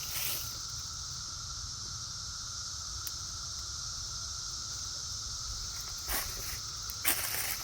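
Brood XIII periodical cicadas call in a northern Indiana forest, a steady, droning chorus of high buzzing that fills the air evenly, with a few faint rustles and clicks near the end.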